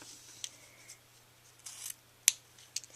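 An I-magicut cutter makes a notch cut in paper: a few faint, sparse snips and a rubbing scrape, capped by one sharp crisp cut, close and quiet.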